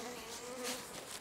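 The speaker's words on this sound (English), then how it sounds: "show you exactly what to look for when the bees are coming in on the ivy" Honeybees at a hive entrance during an ivy nectar flow, a steady close buzzing drone of many wings with one bee passing especially near, no talking.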